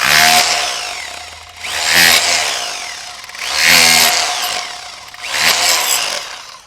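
A Bosch Bulldog Xtreme rotary hammer chisels into old concrete in four loud bursts of rapid, gritty hammering, each separated by a brief lull, close up and with no talking.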